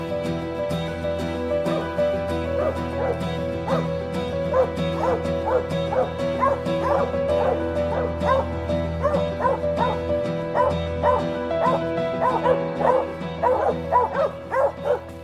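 A hunting dog treeing squirrels barks repeatedly in a steady run of yips and bow-wows, clear and fairly close, over a constant low hum.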